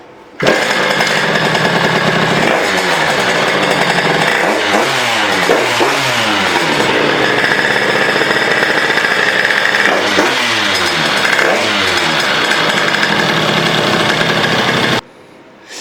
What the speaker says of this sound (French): normalement ça devrait démarrer du premier coup de kick